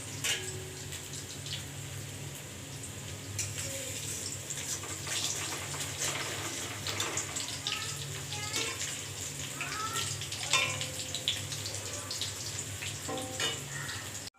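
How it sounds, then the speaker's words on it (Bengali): Chopped banana flower patties fry in hot oil in a kadai, giving a continuous hissing sizzle with scattered crackles and pops throughout. "কড়ায় তেল গরম বসিয়ে দিয়েছি"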